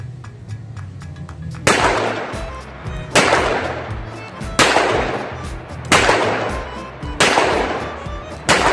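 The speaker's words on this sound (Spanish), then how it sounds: "procedamos con los disparos" Six loud, sharp shots ring out at a steady pace about a second and a half apart, each with a short decaying tail. They come from an Ekol Volga pocket pistol firing traumatic (less-lethal) ammunition with a six-round capacity.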